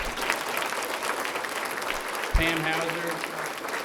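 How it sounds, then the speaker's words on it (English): Audience at an economic development corporation annual meeting applauds elected officials, a steady mid-distance wash of clapping throughout, with a voice speaking over it partway through. "could I please have you stand and get a round of applause for your work"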